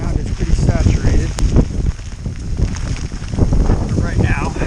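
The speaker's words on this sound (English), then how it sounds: "Pretty windy." Strong wind during Hurricane Ian outdoors in saturated conditions, loud continuous buffeting gusts battering the microphone in waves, with brief talking in the background.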